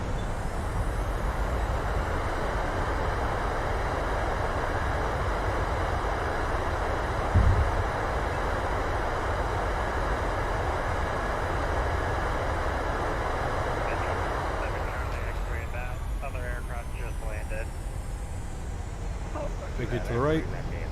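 Jet engine thrust reversers roar steadily during a landing rollout in Microsoft Flight Simulator, a continuous broadband rumble that eases off near the end as a voice briefly speaks over it.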